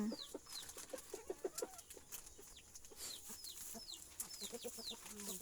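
Chickens cluck and squawk on a rural farm, several birds making rapid overlapping clucks and short rising calls at moderate distance, with no talk.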